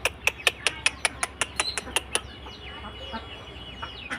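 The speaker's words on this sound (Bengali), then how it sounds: "দেখেন কতগুলা সুন্দর সুন্দর মুরগি" Chickens on a small village farm cluck in a quick run of about a dozen sharp, evenly spaced calls, then softer scattered clucks and chirps, fairly close with little talk.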